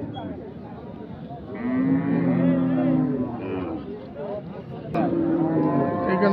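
Sahiwal cow and calf mooing at an open cattle market: two long, loud, drawn-out moos, one early and one near the end, over a background of crowd chatter and market noise.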